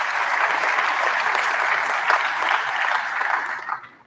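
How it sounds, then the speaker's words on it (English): Sustained applause from a sizeable crowd, dense and even for several seconds before tapering off at the end. "Let's give them a round of applause."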